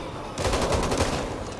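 Zombies firing guns in the Back 4 Blood shooter game make a short, loud, rapid burst of rattling gunfire that lasts about a second.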